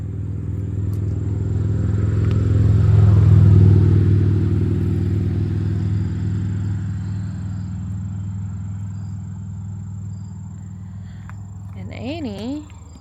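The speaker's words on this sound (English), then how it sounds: "Here's some motorcycles coming." Several motorcycles pass on a scenic hill byway in Ohio, a loud low engine rumble swelling and fading over steady road noise heard from inside a moving car.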